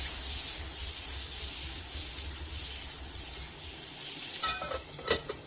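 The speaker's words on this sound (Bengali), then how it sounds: "এখন আলুটা ফ্রাই করে নেব এখানে তেলগুলাতে।" Potato pieces frying in oil left over from frying pointed gourd, a steady close sizzle with a few sharper clinks and stirring noises near the end.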